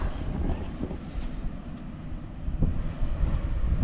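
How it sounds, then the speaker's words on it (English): A low, steady rumble of a train rolling past outdoors near Woy Woy Wharf, heading toward Newcastle, continuous and moderately loud throughout with no voices. "There goes a train"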